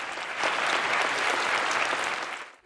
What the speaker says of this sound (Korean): 저버리지 않는 수상 소감에 박수갈채가 쏟아집니다.